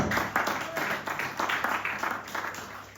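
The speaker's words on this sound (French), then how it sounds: "Est-ce que tu peux acclamer très fort pour la gloire du Seigneur Jésus-Christ?" A church congregation at a Sunday service applauding and cheering, dense sustained clapping and crowd noise filling the room, loud and continuous, with voices mixed in.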